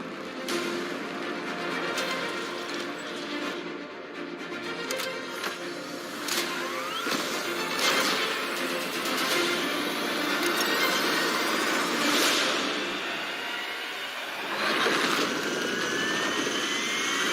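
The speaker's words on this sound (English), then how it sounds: "We have liftoff." A rocket engine roaring at liftoff, a dense continuous rumbling roar that holds steady throughout with rising surges and whooshing swells, loud and sustained, with no voices.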